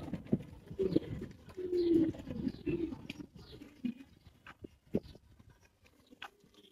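Racing pigeons in a home loft give low, soft cooing calls with some shuffling and pecking, moderately close and without talk.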